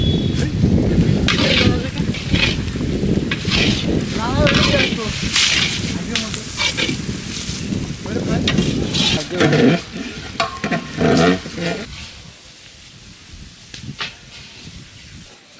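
Onions sizzle in oil left over from frying fish, stirred for a prawn curry, with scraping and stirring over a loud, steady hiss that fades near the end.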